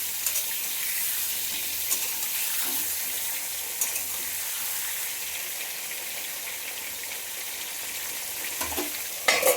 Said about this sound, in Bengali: ঢাকনাটাকে আবার এবার একটু তুলে পটলগুলো আবার একটু নেড়ে চেড়ে দিই।